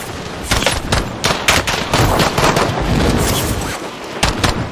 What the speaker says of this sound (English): Bro, there's so many people shooting me on my way down